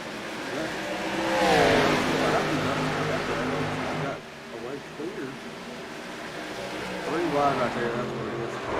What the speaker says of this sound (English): Dustin Buck jams on the gas and then slams on the brakes.